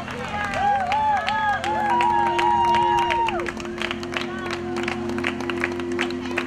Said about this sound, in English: Let's give our runners / walkers a big round of applause.